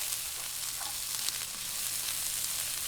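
Garlic and onion sauté in oil for Kapampangan bringhe, a dense continuous sizzle that stays loud and even close to the pan, with no voice over it.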